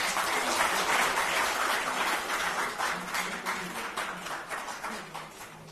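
Sustained crowd applause fills a Korean National Assembly policy forum hall as a former floor leader is welcomed to the podium. It stays dense and steady, then gradually thins toward the end.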